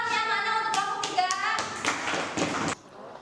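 A classroom of students applauds a presenting group, scattered hand claps mixed with a voice and chatter, dense for a few seconds then stopping abruptly.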